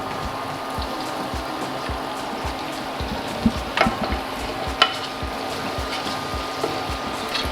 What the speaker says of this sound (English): Gonna add a splash of pasta water.